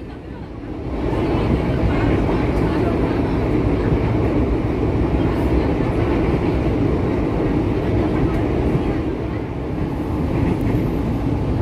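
A train runs straight through a small station just past Yogyakarta, heard from on board as a loud, steady rumble and roar of the carriage that swells early and holds throughout.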